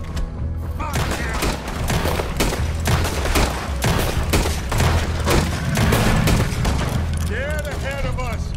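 Gunfire in Red Dead Redemption 2 crackles as a dense, steady fusillade of shots close and far, mixed with game effects and voices speaking over it.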